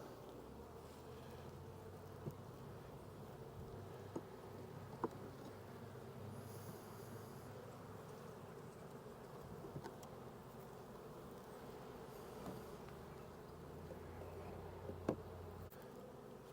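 Honey bees in production hives, with dense, steady, low buzzing throughout a long stretch, close and even, while occasional faint ticks and knocks come through and no one speaks.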